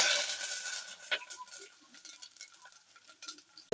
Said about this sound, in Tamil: அதில் கடுகு, உளுத்தம்பருப்பு, கொஞ்சமாக சோம்பு, ஒரு ஸ்பூன் சீரகம், வெந்தயம், இது எல்லாத்தையும் நல்லா ஃபஸ்ட்டு போட்டு நல்லா ஃப்ரை பண்ணுங்க